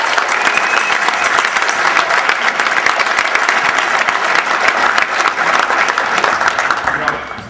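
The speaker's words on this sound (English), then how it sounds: "Give yourself an applause." An audience at a football team banquet claps loudly and steadily in sustained, dense applause that fades out at the very end.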